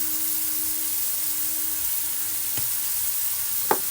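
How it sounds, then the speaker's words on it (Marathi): Paneer and bottle gourd with black pepper sizzle steadily in a hot kadhai as they are stirred, with a couple of sharp spatula scrapes near the end and no voices. "टॉस काय करता येत नाही कढईमध्ये खाली वरती करून घेते थोडंसं"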